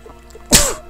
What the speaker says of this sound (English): Small sneezes